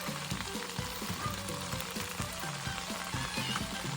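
Crabs cooking in butter with garlic in a pan, sizzling and frying steadily with scraping stir strokes recurring in a loose rhythm, close up.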